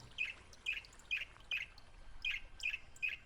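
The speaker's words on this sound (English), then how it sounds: "I'm sorry, is that chirping?" A bird chirps inside a tunnel, giving about seven short, bright, evenly spaced chirps at a steady rhythm against a quiet, hollow background.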